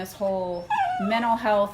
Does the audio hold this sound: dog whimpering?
yes